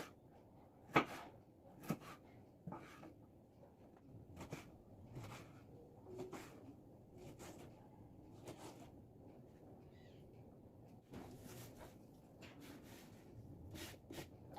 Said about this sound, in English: Slice the shallots, slice the chilies, and if you use tomato, slice the tomato.